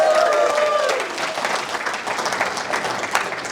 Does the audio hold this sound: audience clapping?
yes